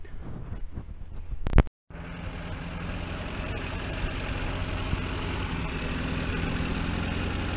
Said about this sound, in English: got George fired up. Not sounding too bad, is he?